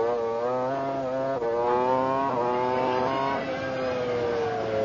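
A 1999 Jordan Formula One car engine howls loud and close on the Silverstone circuit, a high harmonic scream that holds, drops briefly through shifts and rises again with throttle changes, with no talk.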